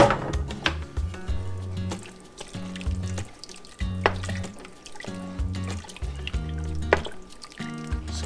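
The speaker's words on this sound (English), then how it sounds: "Just give it a good stir like that." Duck gumbo being stirred in a pot, with wet sloshing and scraping in a repeating rhythm of strokes, close and fairly loud.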